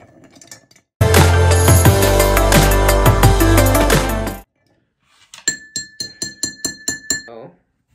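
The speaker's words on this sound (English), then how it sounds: "Then we're going to put some ice in it. And then we're going to stir until," Ice clinks and rattles in a glass of whiskey, first as a dense, loud jangle of cubes for about three seconds, then after a pause as a string of separate bright clinks, with no talking.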